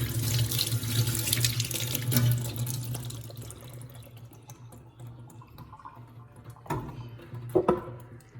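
Aloe vera leaves are rinsed under a running kitchen tap, a steady close hiss of flowing water splashing into a sink, with a few louder splashes and drips toward the end.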